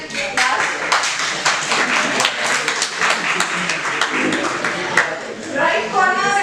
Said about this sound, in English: Right corner, two claps, please